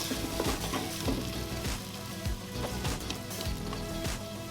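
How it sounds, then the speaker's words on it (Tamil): Tomatoes frying in a pan for crab biryani, giving a steady broadband sizzle with regular stirring scrapes and soft utensil knocks throughout, close and moderately loud, with no talking. "இந்த தக்காளி ஆட் பண்ணலாம் ஸோ இந்த தக்காளி நல்லா குக் ஆகி வரணும்"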